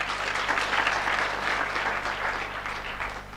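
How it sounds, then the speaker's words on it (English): A university freshers' orientation audience gives a professor a dense, sustained round of hand clapping from many people, loud and even throughout before easing slightly at the close. "Another hand clap for our professor."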